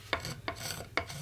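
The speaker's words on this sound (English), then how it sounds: "I'm just trying to basically remove the lacquer and get down to the sanding sealer under" Lacquer being scraped off a Telecaster guitar body down to the sanding sealer, three close, rasping scrapes about every half second over a steady noisy background.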